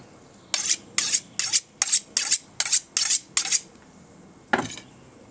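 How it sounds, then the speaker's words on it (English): A knife works through a vine tomato on a board: eight sharp, evenly spaced strokes in a quick rhythm, then a pause and one last stroke, close and clear with no talking. "So basically, vine tomato, cut in half."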